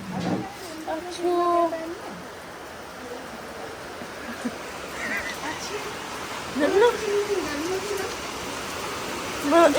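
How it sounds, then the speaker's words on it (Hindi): Steady rain hisses throughout, with voices talking intermittently over the downpour. "हमें भिगाने के लिए थी ये बारिश"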